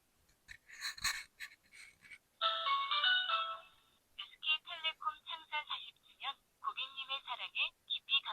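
Short electronic keypad beeps from a KOSPET TANK T3 smartwatch dialing a call, then a sustained ringing tone, followed by a run of quick chirping beeps in bursts, small and close.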